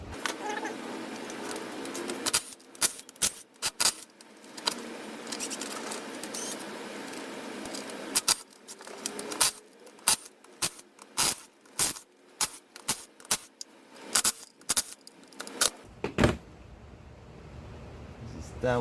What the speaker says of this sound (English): So I'm gonna take the bolts all around the case.